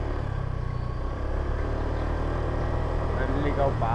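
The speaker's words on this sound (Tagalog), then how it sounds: "Ingay kasi ang motor niya, lakas eh." A loud Honda Click 125 motorcycle engine drones steadily throughout, a constant low rumble with voices faintly audible over it.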